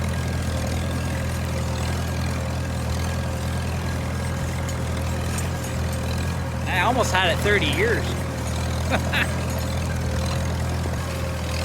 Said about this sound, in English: That old Farmall's pretty good looking little tractor there.